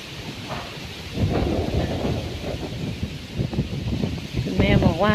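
Thunder rumbling through a wind-driven rainstorm, with gusty wind buffeting close by and rain hissing steadily under it; the roar swells and stays loud, and a voice calls out briefly near the end.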